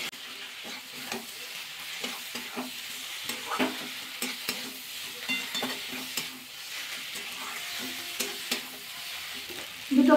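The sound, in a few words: stir-frying fried soybeans with spices in a pan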